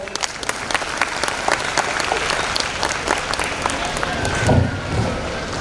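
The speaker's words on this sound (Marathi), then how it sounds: "आपल्या प्रिन्सिपल मॅमच्या प्रेरणादायी विचारांसाठी मनापासून जोरदार टाळ्या होऊन जाऊ दे" Audience applause at a school annual gathering, steady dense clapping from a crowd in an auditorium, swelling slightly toward the end with a low rumble underneath.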